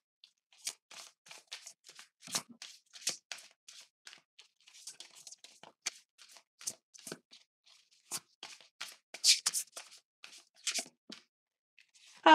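Oracle cards being shuffled by hand, a string of soft papery flicks and rustles in irregular bursts, close and quiet against near silence.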